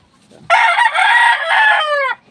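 A rooster crows once, loud and close, a single drawn-out call of about a second and a half that breaks off at the end, with quiet surroundings before and after.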